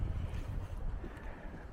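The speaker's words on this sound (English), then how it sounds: "It's windy." Steady wind buffets and rumbles against the microphone, a continuous low roar with no voices.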